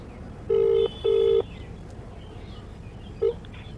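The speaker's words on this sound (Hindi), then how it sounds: "हम उनके पास फ़ोन लगाते हैं" Telephone keypad tones as a call is placed: two sustained dialing beeps in quick succession, then a short third beep after a pause, loud and clear over faint background hiss.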